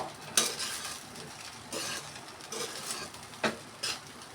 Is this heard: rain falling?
no